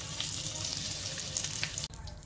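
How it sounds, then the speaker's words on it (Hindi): Pointed gourd (parwal) pieces fry in hot oil in a kadhai, giving a continuous bright sizzle and crackle that cuts off abruptly near the end and resumes more quietly. "इसी तरह से मैं बाकी के बचे हुए परवल को भी फ्राई कर लेती हूँ।"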